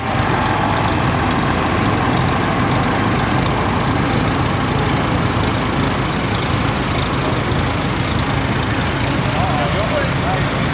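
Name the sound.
International Harvester 1086 tractor engine running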